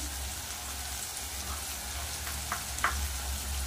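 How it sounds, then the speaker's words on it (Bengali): Potatoes, eggplant and bhola fish fry with ground cumin and chili in hot oil, giving a steady close sizzle with a couple of brief stirring clinks near the end. "বা মশলাগুলো দিয়ে ভালো করে কষিয়ে নেব।"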